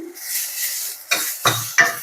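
Green chillies and coriander cook in a pan for an okra chutney, giving a soft hiss broken by three short, sharp bursts of sizzling and stirring.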